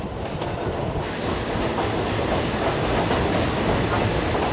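A slow third-class local train on Thailand's Death Railway along the River Kwai rumbles steadily along the tracks with a continuous rattling clatter of wheels and carriages, close and fairly loud throughout, with no talking.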